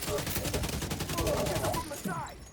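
In a video game, rapid gunfire rattles in a dense burst of repeated shots, loud and close, fading into a short tail near the end with a voice briefly audible underneath.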